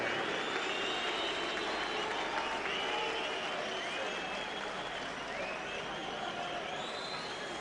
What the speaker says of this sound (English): I'll wager he could hear the booing. And some smattering of applause for Witter